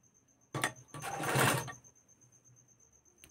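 A domestic sewing machine stitches a double-folded sleeve hem on a little girl's blouse: a short burst of whirring, a brief pause, then a longer run of stitching that stops, close and fairly quiet.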